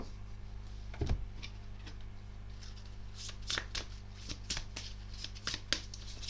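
Tarot cards are shuffled by hand in a steady run of crisp riffling flicks and soft slaps, close and fairly quiet over a low steady hum, with no talking.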